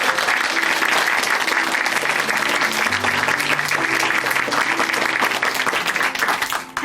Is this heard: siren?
no